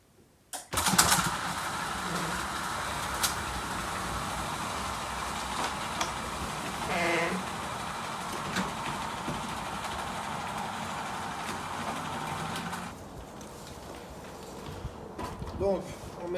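A Solex moped engine, freshly reassembled onto its frame, starts up and runs with a steady buzzing drone for about twelve seconds before cutting out, with brief handling noises after.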